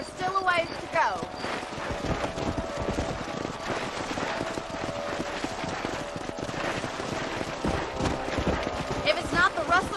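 Horses clip-clopping at a steady trot in the western video game Red Dead Redemption, continuous hoofbeats close by, partly under in-game character dialogue and ambient music.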